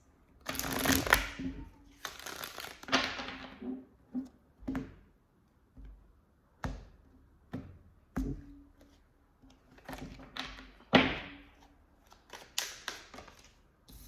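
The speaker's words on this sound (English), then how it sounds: "Let's keep shuffling." Cards are shuffled in repeated short riffling bursts, close and quiet, separated by soft taps and pauses.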